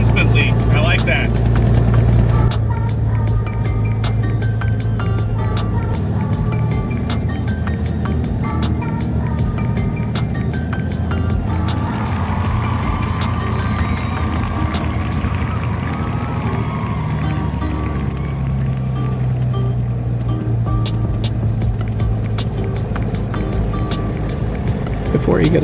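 Engine of a Beechcraft V-tail Bonanza running, a loud steady droning roar that fills the whole stretch without letup.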